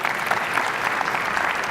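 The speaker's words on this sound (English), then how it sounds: "Round of applause." Conference audience applause at a DevOps event in Las Vegas, a dense, continuous patter of many hands clapping, loud and sustained throughout.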